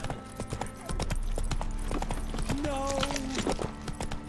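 Roach the horse in The Witcher 3 gallops with steady, crisp hoof clip-clops, a quick run of beats over a background bed, while a voice shouts briefly and a higher tonal swell rises near the end.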